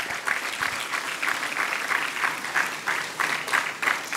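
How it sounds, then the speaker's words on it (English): Audience applause for dignitaries at a Guru Purnima celebration at a yoga university, a steady mid-distance clapping with rhythmic swells and dips, loud and continuous throughout. "Let's have a huge round of applause for all our dignitaries present here today."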